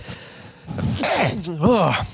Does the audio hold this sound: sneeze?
yes